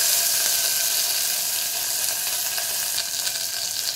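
Onions sizzle in hot tempering oil already holding mustard seeds, cumin and green chillies for pappu charu, a loud, steady, dense crackle with no talk.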